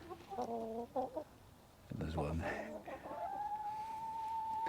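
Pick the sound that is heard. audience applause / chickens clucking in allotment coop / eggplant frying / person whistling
chickens clucking in allotment coop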